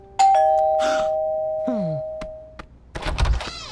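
A cartoon doorbell chimes with a bright ringing tone that lingers and fades, followed by a descending sweep, a couple of knocks and a short rustling burst.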